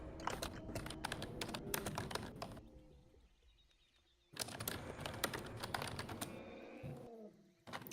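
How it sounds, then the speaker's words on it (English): Computer keyboard clicking as someone types during a dinosaur game session, quick dense bursts of keystrokes close to the microphone, pausing for about two seconds in the middle and then resuming, with no talk. "Can you guys hear my keyboard clicking?"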